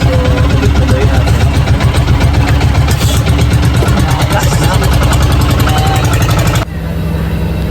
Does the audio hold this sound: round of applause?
no